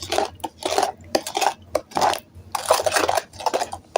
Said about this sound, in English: I'm pushing against the bowl and I'm just breaking up the pudding that I put in